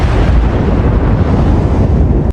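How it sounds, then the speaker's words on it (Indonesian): A house explodes in a film scene: a loud, sustained roaring blast with rumbling low end that fills the whole moment before cutting off sharply. "sebuah ledakan terjadi di rumah Sabina yang membuat mereka berdua menjadi sangat kaget"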